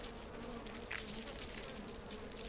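Japanese honeybees swarm at their hive inside a hollow tree, a steady, dense insect buzz filling the air at close range with no voices.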